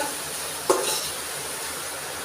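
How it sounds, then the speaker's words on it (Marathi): Veg biryani masala with turmeric stirred in a pan over a low, steady sizzle, with one sharp clink of the spoon against the pan near the start. "हळद दोन चमचे टाकूया आणि परत एक सारखं हलवून घ्यायचं"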